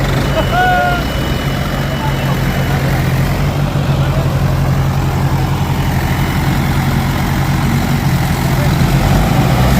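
Several tractor engines rumble loudly and steadily at close range, a deep continuous idle with faint voices mixed in underneath.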